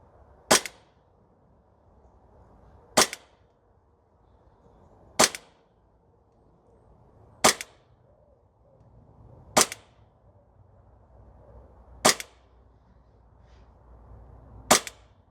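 Seven sharp shots from a Novritsch SSP28 airsoft pistol on an outdoor range, crisp snapping cracks spaced about two seconds apart over quiet background.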